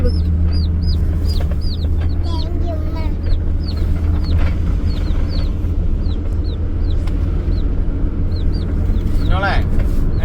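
Chickens and chicks cheep continuously in high, rapid chirps over a steady low hum, with some voices faint in the background.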